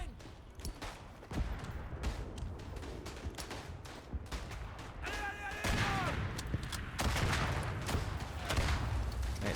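Repeated gunfire and heavy artillery thuds from a World War I battlefield in the game Verdun, with a whistling shell descending midway, sharp shots throughout and a steady rumbling barrage building louder toward the end, voices faintly underneath.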